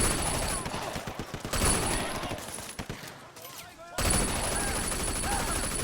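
Gunfire erupts in the Sleeping Dogs video game in a rapid cluster of close, sharp shots, followed by a brief lull and then a steady loud din.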